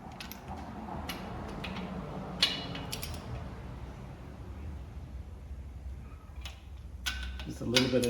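Ratcheting and creaking mechanical clicks from a wrench tightening ring gear bolts on a Dana 70 axle to 80 foot-pounds, in a few short bursts close up over a steady low background hum.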